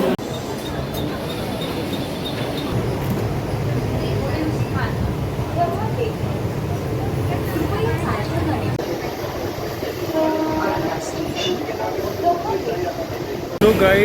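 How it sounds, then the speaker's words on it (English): Dadar railway station platform in Mumbai carries a steady wash of crowd babble, rumbling trains and station noise, with someone talking over it. "Now I've arrived here at Dadar station."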